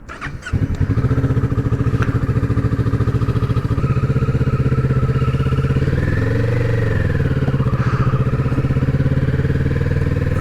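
A 2025 Kawasaki Z650 starts up and settles into a loud, close, steady engine drone while riding around town, the pitch rising and falling slightly with throttle.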